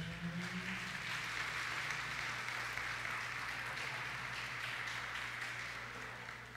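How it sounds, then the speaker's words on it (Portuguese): A church congregation applauds the fathers on Father's Day, a steady wash of clapping from many hands that holds for several seconds and then tapers slightly. "Um aplauso aos papais."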